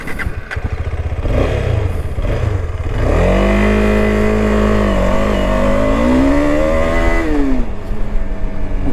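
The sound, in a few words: KTM 250 Adventure motorcycle being ridden off-road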